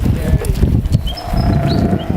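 Goats at an animal sanctuary give several short bleats, close and clear among shuffling, livestock noises, and a voice briefly overlapping.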